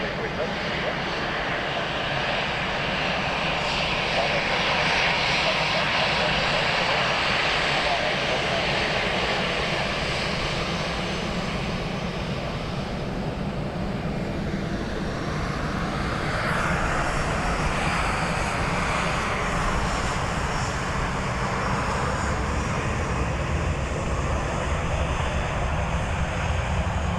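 A Swiss airliner at Dublin Airport gives off a loud, continuous engine roar that shifts slowly as it passes, filling the whole stretch without letup.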